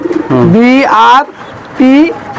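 Racing pigeons coo close by in two loud, throaty rolling bursts separated by a short pause.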